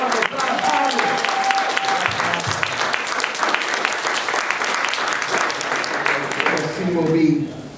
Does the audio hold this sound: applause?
yes